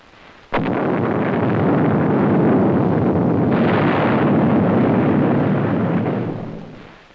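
A nuclear weapon blast hits with a sharp onset and then roars as a sustained, loud, wind-like rush of broadband noise for several seconds before slowly fading, with no voices present.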